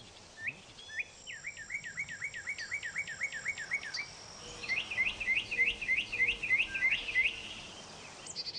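A mockingbird repeats a whistled chirping phrase in a rapid, even series, then switches to a higher, different note repeated the same way. Clear and close, no talking.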